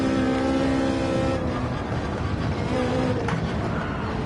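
A Ferrari race car in a racing video game drones through a corner, its engine note holding a steady tone and dipping as it eases off near the apex, with a faint rising rev near the end.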